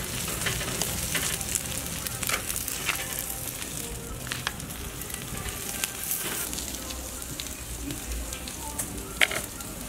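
Potatoes cooking over open flames in a backyard pork-jerking setup, with a steady close crackling sizzle and hiss running throughout and a few sharper pops.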